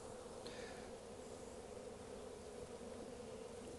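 Honeybees from a package colony buzz around the hive entrance, a faint, steady, continuous hum with no voices.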